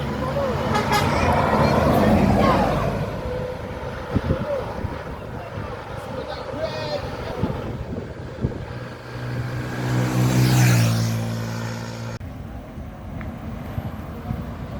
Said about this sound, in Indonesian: Transport Express Jaya dengan julukan Kreator tancap gas menuju Jakarta dan dikejar di belakangnya oleh Sembodo